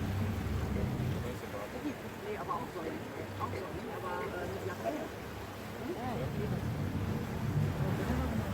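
A boat pulls out of the harbour at Los Gigantes, Tenerife, its steady low engine rumble mixed with wind buffeting the microphone and water wash, continuous and fairly loud throughout.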